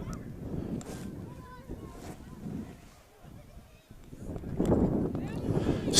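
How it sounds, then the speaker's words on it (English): Strong wind buffets the microphone at an outdoor football field during a high school underclassmen showcase in Haines City, Florida, with low rumbling gusts that swell toward the end beneath a commentator's voice. "Still very, very windy."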